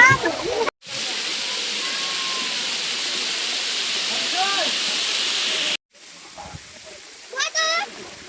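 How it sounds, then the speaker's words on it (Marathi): A waterfall fed by an overflowing lake at Matheran roars as a steady, dense hiss of rushing water, with voices talking over it and brief cuts in the sound. "ह्या धबधब्याच्या वाहणाऱ्या पाण्याचा आनंद लुटण्यासाठी लोकांची काय गडबड केली"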